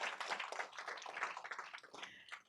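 Applause from a town hall audience for an online chat host, a dense wash of claps that stays steady and moderately loud for a couple of seconds with no voices over it.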